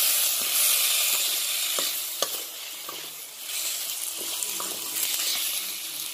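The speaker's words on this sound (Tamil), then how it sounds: "மூணு தக்காளி ஆட் பண்ணிக்கோங்க. தக்காளி நல்லா வதங்கட்டும்." Three tomatoes with crushed ginger and garlic sizzle steadily in a pan, with scattered clicks and scrapes of stirring over a constant frying hiss; no one speaks.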